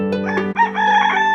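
A rooster crows loudly and close by, one full cock-a-doodle-doo with a brief break before the long drawn-out final note.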